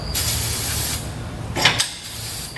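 An aerosol can sprays white lithium grease onto a snow plow hinge in a loud close hiss of about a second, then two shorter bursts follow after a pause.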